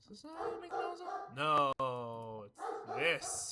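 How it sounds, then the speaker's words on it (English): Household dogs barking and howling in the background: a drawn-out, tonal dog cry rises midway, while a person talks casually over and around it. "I'm just ignoring my dogs. If you can hear them in the background"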